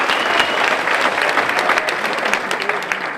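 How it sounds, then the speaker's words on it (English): Audience applause after a motivational speaker's public lecture: dense, steady clapping from a large crowd, loud and continuous throughout. "Give her another round of applause"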